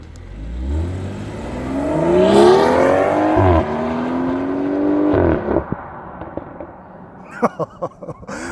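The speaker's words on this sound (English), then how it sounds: "You guys can listen to the car" A 2018 BMW X3 M40i accelerates hard in sport mode, its exhaust climbing through rising revs with two clear gear shifts, then lifting off into a series of sharp exhaust pops and crackles, loud and close.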